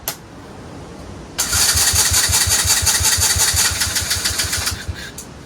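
A Chinese 125cc ATV quad engine cranks and catches after a quiet second, then runs at a fast, steady idle for about three seconds before shutting off abruptly, loud and close with no talking.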